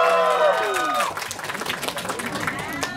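Audience applause swells after a musical tone fades at a music video launch event, steady clapping filling the room with a few cheers mixed in.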